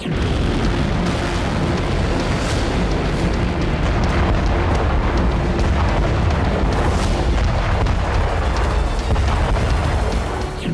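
A massive blast from an Iranian gas pipeline being blown up, heard as a loud, continuous deep roar and rumble filling the whole span without a break.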